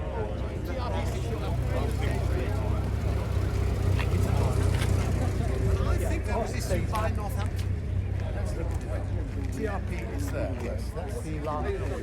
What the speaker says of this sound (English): So we have another MG leaving here.